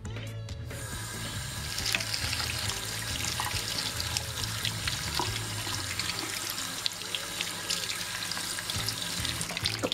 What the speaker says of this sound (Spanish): vamos a escurrirlo con un escurridor y lo enjuagamos con agua fría para que el arroz se enfríe